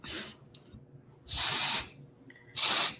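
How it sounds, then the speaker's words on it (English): Two long, loud bursts of ozone spray from an aerosol can, each hissing for about half a second with a gap between, plus a short faint puff earlier. "I need to use the ozone spray again."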